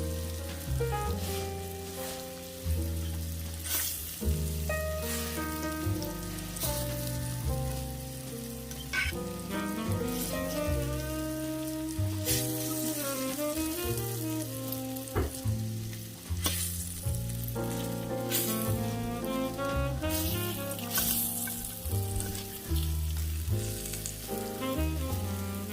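Morel mushrooms fry in a pan with a steady, soft crackling sizzle that runs the whole time beneath louder melodic background music, with no talking.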